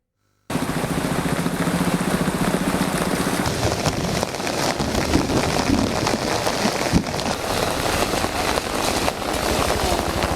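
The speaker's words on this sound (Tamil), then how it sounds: "இடி மின்னலுடன் கனமழை வெளுத்து வாங்கியது." Heavy rain pours down at night in Chennai, a dense, loud, continuous hiss of drops hitting surfaces after a sudden start, with low thunder rumbling through the storm.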